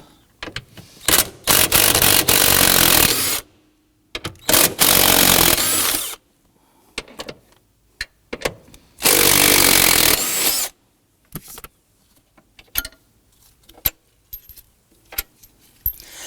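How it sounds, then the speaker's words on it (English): Ratchet and 13mm socket loosening body bolts on a 2003-2014 Volvo XC90 3.2L during fuel pump module replacement, heard as loud bursts of rapid clicking separated by pauses and lighter metallic clinks. "Now we're going to use our 13mm socket to loosen these bolts."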